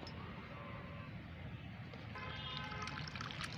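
Homemade liquid plant fertilizer being strained, a steady soft watery trickle and pour that runs continuously, with a slightly brighter splashing stream toward the end.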